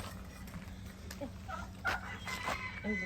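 Chickens cluck and call at a cheese theme park, scattered short clucks near and mid-distance over a steady outdoor background, with faint voices.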